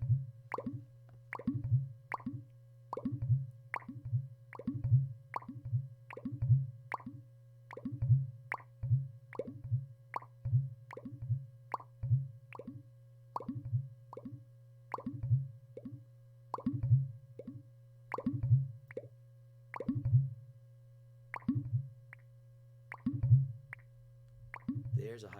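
Game fish in a Unity-built title sound off as short, plopping notes in a higher octave, a steady run of evenly spaced pitched blips over a constant low hum, with quiet clicks between them.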